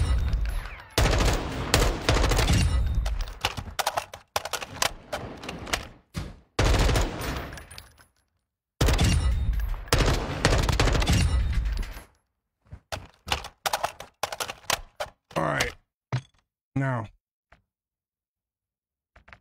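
Long rapid bursts of automatic fire from a mounted gun in the video game Warzone 2, loud and close, broken by short pauses and followed by a few scattered shots and mechanical clicks before silence.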